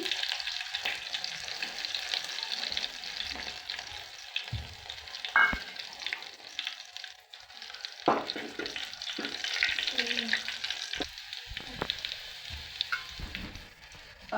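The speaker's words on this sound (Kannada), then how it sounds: "ಅರ್ಧ ಸ್ಪೂನ್ ಅಷ್ಟು ಸಾಸಿವೆ ಜೀರಿಗೆ ಹಾಕೊಂಡಿನಿ ಮತ್ತು ಬೆಳ್ಳುಳ್ಳಿ ಹಾಕೊಂಡ್ಬಿಡ್ತೀನಿ" Mustard seeds, cumin and garlic sizzling in hot tempering oil, an uneven crackling hiss with spitting pops and occasional clinks of a spoon against the pan, close and fairly loud.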